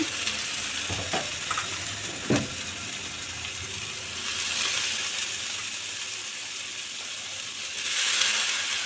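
Snake gourd pieces, salted and turmeric-coated and left to release water, sizzle steadily in hot oil, with a few sharp scraping stirs and louder bursts of spitting near the end.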